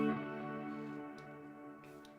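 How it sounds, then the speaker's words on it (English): Electric guitar chord played through ambient effects rings out with a bright reverb tail that fades only briefly before being cut off short, with a few faint ticks near the end. "Listen to my reverb. You can hear it there, but it stops."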